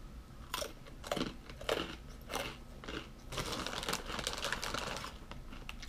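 Honey-flavored Korean snack strips shaped like French fries are chewed close up, with sharp crunching bites at first and then steady, dense chewing.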